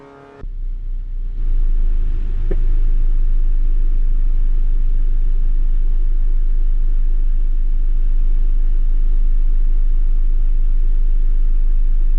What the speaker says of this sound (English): I apologize if the cars are much louder.